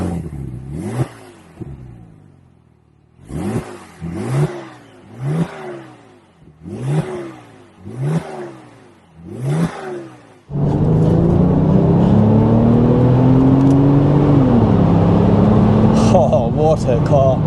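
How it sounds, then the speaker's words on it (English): A 3.6 litre twin-turbocharged flat-six with variable turbine geometry revs in a series of sharp, loud blips separated by short pauses, then settles into a sustained roaring pull that rises and falls. "twin turbocharged flat six."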